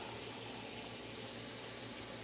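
Starchy water from potatoes gushes into a cooking pot, a continuous close splashing rush that lasts the whole short moment without any talk.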